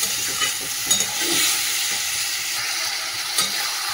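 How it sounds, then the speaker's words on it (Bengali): Spice paste with vegetables frying in oil in a pan, a loud, steady hissing sizzle with occasional stirring knocks, close up and without talk. "মশলাটা এবার ভালো করে কষাবো"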